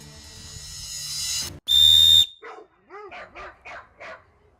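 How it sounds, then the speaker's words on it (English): A very loud 3D printed whistle gives one piercing, steady blast outdoors after a burst of noise, then several dogs answer with a string of yelps and barks. "This is the world's loudest 3D printed whistle."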